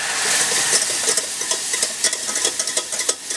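Juice poured into a cooked flour roux in a hot pan for a lemon sauce, giving a close, bright sizzling hiss with short crackling bursts and stirring scrapes, alone.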